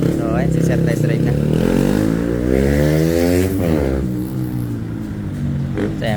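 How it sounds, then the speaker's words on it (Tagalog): A motorcycle engine is revved at high, low and mid RPM during a test drive after repair for sputtering and stalling, rising and falling in pitch, close by, with someone talking over it. "pinapetest natin sa kanya high RPM, low RPM, tsaka mid RPM"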